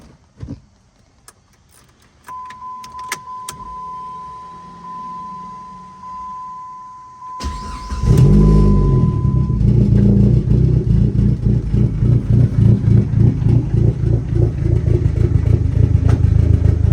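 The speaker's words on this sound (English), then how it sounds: "let's go ahead and fire this thing up." A 2005 Dodge SRT-4 on solid engine mounts cranks and fires up after a quiet stretch with a steady tone, then settles into a loud, rough idle that runs on continuously close by, with a faint rattle.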